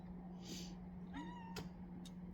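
A pet cat gives a short meow near a sewing machine during clothing mending, quiet and brief, over a steady low motor hum with faint chirps.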